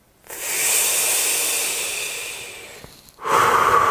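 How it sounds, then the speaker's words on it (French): A slow, deep breath close to the microphone, a long airy inhale followed after a short pause by a strong rushing exhale, in a guided relaxation setting. "Alors vous allez prendre une grande et profonde respiration maintenant."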